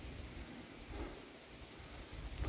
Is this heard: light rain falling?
yes